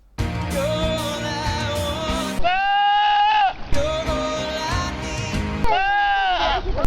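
A goat-like bleating singing voice on American Idol, performing a song, wavers through two long, quavering cries over dense musical accompaniment, loud and close.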